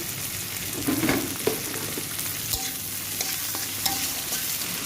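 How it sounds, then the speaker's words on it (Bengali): Onions and chopped tomatoes fry in a pan, giving a steady close sizzle with occasional stirring scrapes and light clinks of the utensil against the pan, with no talk. "পেঁয়াজ খুব ভালো করে একটু লাল লাল করে ভেজে নেব পেঁয়াজ একটু ভেজে নিচ্ছি"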